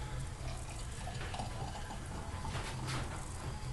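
Boiled water from a kettle pours steadily into a beer glass, a continuous liquid splash and gurgle lasting a few seconds, close and moderately quiet with no talking.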